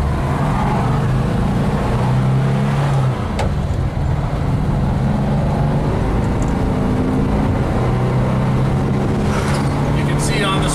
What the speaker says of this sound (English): I'm gonna start from a dead stop and run through all the gears here so you can see how smoothly it works